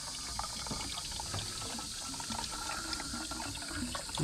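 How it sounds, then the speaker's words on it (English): Water runs steadily from a garden hose into a car's cooling system during a pressure test for leaks, a continuous splashing pour with no talking. "Gotta get some water in the system."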